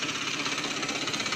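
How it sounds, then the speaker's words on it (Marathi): A farm tractor engine runs at a steady idle, a faint, even chugging hum with light vibration, heard alone without talk. "ट्रॅक्टर चालू आहे आता."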